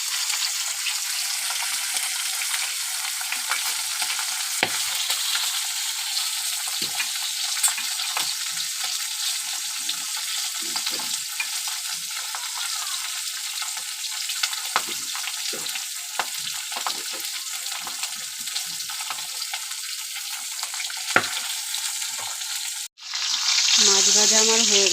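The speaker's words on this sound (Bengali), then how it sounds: "ওই তেলের মধ্যে আমি মাছটা ভেজে নেব" Two pieces of fish fry in a small amount of oil in a home kitchen, a steady dense sizzle with faint stirring crackles running for about 23 seconds before a brief break and a louder burst.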